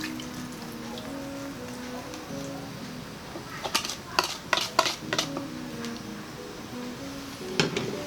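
Sweet and sour sauce made with sugar and salt bubbles gently in a pan, a soft sizzle under a low hum, with a cluster of sharp utensil clinks and scrapes partway through and another near the end.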